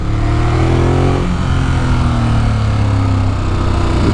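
A 2018 Ducati Monster 821 motorcycle ridden in sport mode, its engine droning loud and close with a steady tone that rises and shifts in pitch midway, steady and uninterrupted throughout.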